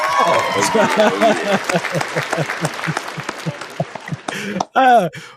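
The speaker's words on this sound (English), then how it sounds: "Let me give my man a round of applause." A live-show audience gives a round of applause to a visiting guest, scattered claps running under steady talking voices before a brief louder burst near the end.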